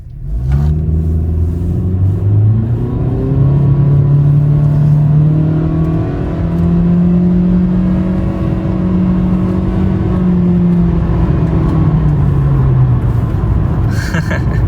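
A 10th-generation Honda Civic launched from a standstill in sport mode, its engine revving loudly as it pulls hard through the gears, with the pitch rising, dropping at a shift and climbing again over steady cabin rumble.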